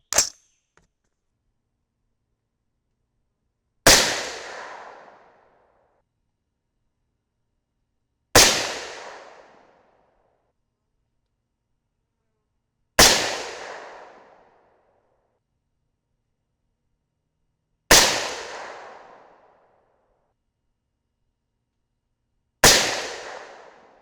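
.308 Winchester rifle fired with Hornady Match loads, five sharp, loud single shots spaced about four to five seconds apart, each ringing off in a short decaying echo, with no talk.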